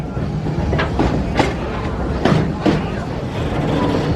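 Park train ride at Busch Gardens Tampa rolling past the Serengeti animal area, with a steady rumble and a few rhythmic clacks of the cars over the track, heard close and moderately loud.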